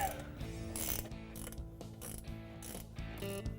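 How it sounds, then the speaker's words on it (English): A 3/8 wrench tightening steering box bolts on a 1994-2000 EZGO TXT golf cart, giving steady close ratcheting and metallic clicking that runs continuously, with no talk. "We're tightening this back up using the 3/8 wrench."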